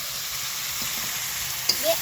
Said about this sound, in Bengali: এদের আমি ভাজা আলুগুলো দিয়ে দেব